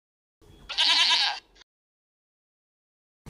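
A single drawn-out, wavering bleat from a goat sounds close and loud for about a second, with brief rustling before it and silence after.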